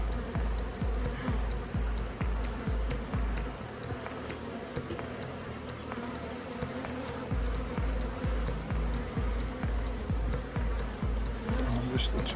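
Bees buzz steadily and close by while a colony is cut out of a flat roof, with a rhythmic tapping running under the hum and people talking briefly.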